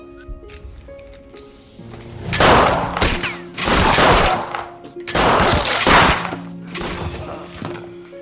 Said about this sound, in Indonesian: Mereka berdua sama-sama saling tembak hingga sekarat.